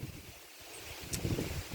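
Wind in rainy weather blows across an open outdoor spot, making a steady, rough rush that buffets the microphone and swells louder toward the end. No one talks over it.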